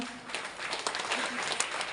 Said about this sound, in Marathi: टाळ्या वाजवायच्या त्यांच्या